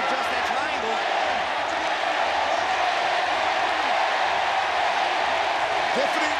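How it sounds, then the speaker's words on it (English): A deafening arena crowd at a women's MMA bout between Jihin Radzuan and Denice Zamboanga roars and chants steadily in the third round, a dense, loud wash of voices with no break. "Deafening crowd here chanting Jihin Radzuan's name"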